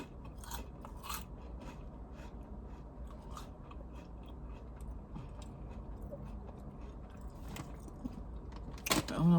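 Crunchy chips being eaten close up, with irregular bites and chewing crunches scattered over a steady low background hum and a louder crunch near the end.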